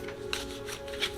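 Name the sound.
shuffling a deck of oracle cards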